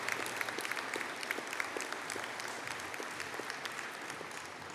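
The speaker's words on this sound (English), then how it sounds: "you preempted me with a well-deserved round of applause there" Steady, dense applause from an audience at a university engineering and informatics graduation ceremony, sustained clapping filling the hall at moderate distance with no talk over it.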